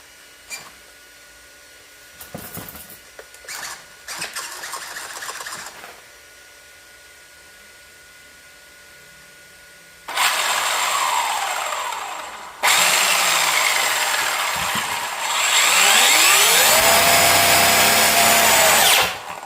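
A Traxxas XMAXX RC car chassis fitted with 35/13 gears runs in loud bursts, a harsh high-pitched motor and gear whine rising and falling, preceded by several shorter, quieter spurts of mechanical noise.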